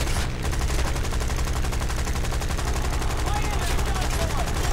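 Rapid automatic machine-gun fire from a War Thunder aircraft battle, a dense continuous rattle of shots running through the whole stretch at steady loudness, with a voice mixed in under the gunfire.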